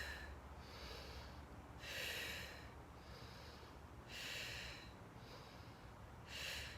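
A person breathing slowly and evenly during a mindfulness exercise, with three soft, airy breath sounds spaced about two seconds apart over a low steady background hum, close and quiet, no talking.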